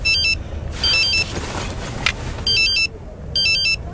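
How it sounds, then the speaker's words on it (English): A mobile phone ringtone plays in short repeated electronic bursts with gaps between, over a faint background hum. "Someone's ringing me from home."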